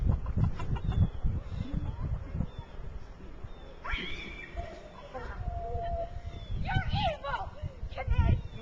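Bantam chickens in a backyard coop during a New Jersey snowstorm give short clucks and a few higher squawks, heard close amid rustling and handling noises, with people talking softly nearby.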